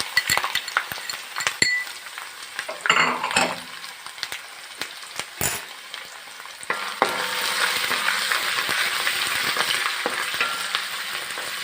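Crushed ginger and garlic fry in a pan for a Kerala varutharacha chicken curry. Metal utensil clinks and stirring scrapes come first, then the sizzle builds into a loud, steady frying hiss near the end.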